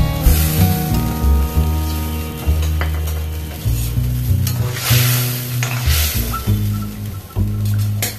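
Fish pieces going into a simmering homemade fish curry on a gas stove, with a loud, constant sizzle and bubble over a low steady hum, plus light clinks of utensils against the pot; no voices.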